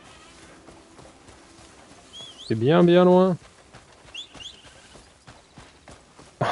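A horse's hooves gallop in the game Crimson Desert, a quick run of light clip-clop taps all through, with a voice speaking briefly in the middle.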